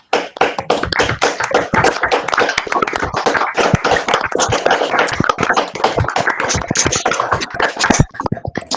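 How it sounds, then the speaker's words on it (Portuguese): Brisk, close-sounding applause from an audience after a university chemistry lecture on enzyme ligand profiling, as many hands clap in a dense patter that stays loud throughout and drops off sharply at the end. "Vamos aplaudir a professora."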